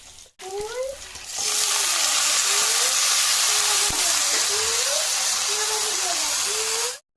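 Potatoes fry in a pan, starting with a sudden loud, steady sizzle and hiss that lasts several seconds. Faint wavering tonal chirps sound beneath it, then the sizzle cuts off abruptly.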